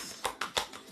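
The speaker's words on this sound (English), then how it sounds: "Final shuffle." A deck of tarot cards is shuffled in a few quick, crisp bursts, each a short papery riffle with brief gaps between, close and fairly quiet.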